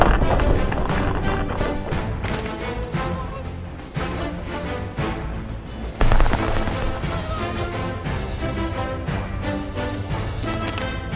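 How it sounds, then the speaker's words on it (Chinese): A fireworks archer in a Lunar New Year video game unleashes a barrage of over a hundred fireworks, a dense run of rapid crackling bursts and booms, with a sharp louder volley partway through. "哇，你们看，发出了100多发的烟花"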